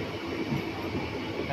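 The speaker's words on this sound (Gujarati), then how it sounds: "અમે આ જેતપુર આવી ગયા છે તો હવે ટ્રેન ઊભી રહેવાની છે" A train slows at Pavi Jetpur railway station with a steady, close rumble of wheels and carriages, heard alone without voices.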